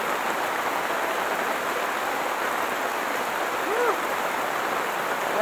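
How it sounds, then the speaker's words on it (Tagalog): Heavy rain falls steadily at a car campsite, a dense, even roar of drops that never lets up and fills the whole scene. "Lakas ng ulan, no?"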